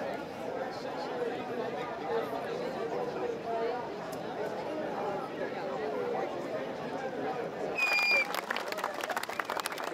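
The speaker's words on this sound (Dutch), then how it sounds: "Maar ze klappen dus nu vooral voor Wietse Berends." Spectators clap for swimmer Wietse Berends at a race finish in Zeeuws-Vlaanderen, where crowd applause and chatter run steadily throughout and swell briefly near the end.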